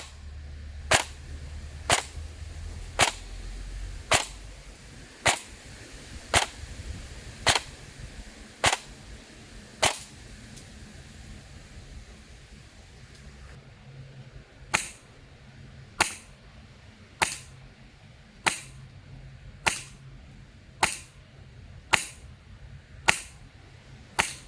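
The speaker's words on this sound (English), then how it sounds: "The AEG does sound more mechanical to me, while the HPA sounds just snappier and crisper." Airsoft guns firing single shots at a steady pace, first an AEG, then an HPA-driven Wolverine MT, each shot a sharp, close, crisp snap with short gaps between, the HPA shots slightly snappier.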